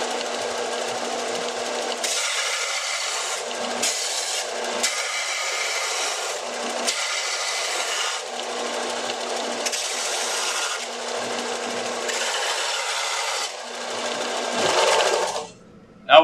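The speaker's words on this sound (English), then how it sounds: "So let's start sanding." A belt sander sanding wood runs in repeated bursts, its gritty abrasive whir rising and stopping several times against a steady motor hum, then a sharp knock at the end.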